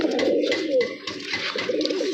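Captured pigeons cooing close by, a string of low, throaty rolling coos repeating in quick succession with brief pauses between them.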